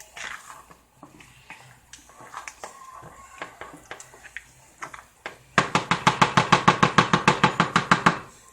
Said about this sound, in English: Stir it.